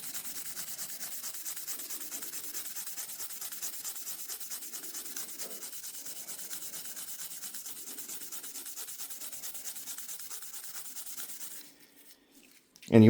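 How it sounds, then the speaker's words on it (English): A brush scrubs the slide of a Glock 43X pistol during cleaning, giving a steady, close, rapid rubbing and scratching that runs for about eleven seconds and then stops. "we're going to go move on to our slide. We're going to start brushing here."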